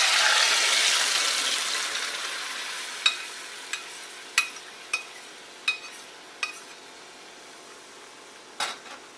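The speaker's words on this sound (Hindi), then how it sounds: "अब हम इसमें ऐड करेंगे अपनी दाल। दाल को इसमें डालते वक्त थोड़ा सावधानी बरतें क्योंकि घी बहुत गर्म है" Cooked arhar dal poured into very hot ghee tempering off the heat, a loud hiss that slowly fades, followed by a series of sharp spaced pops and crackles.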